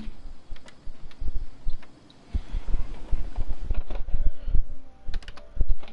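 Fast, close typing on a computer keyboard in a game session, with rapid irregular key clicks and clatters that pause briefly, then resume steadily.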